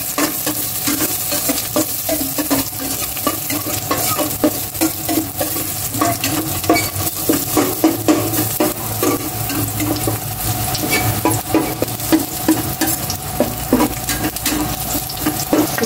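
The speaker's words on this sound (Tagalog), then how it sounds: "Gisa ko na po yung bawang." Garlic sautéing in a little cooking oil, a continuous close sizzle broken by rapid scraping and stirring strokes throughout, with no talking.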